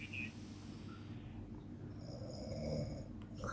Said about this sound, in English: And he's snoring.